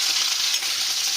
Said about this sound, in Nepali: फेरि आलु भुट्नु पर्यो ल भुट मजाले भुट